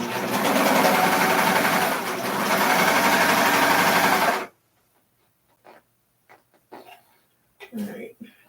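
A sewing machine stitches fabric with a heavier section pulling under the presser foot, a loud continuous motor run for several seconds that stops abruptly, followed by quiet handling noises.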